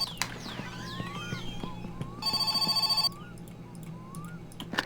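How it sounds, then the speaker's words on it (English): Telephone ringing in the video game My Summer Car: a single steady electronic ring of about one second, loud over ambient birdsong and faint background game noises. "And we got a phone call."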